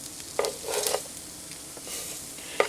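Sausage fries in a pan with a soft, steady sizzle, and a few light scrapes and clinks of stirring break in close by.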